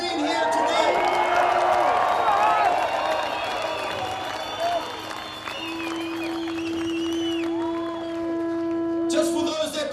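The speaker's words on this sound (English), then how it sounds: "So give yourselves a round of applause for being here today." A large outdoor rally crowd at the Freedom March outside New Zealand's Parliament claps and cheers in a dense, continuous roar, with long sustained horn-like tones sounding over the noise and voices mixed throughout.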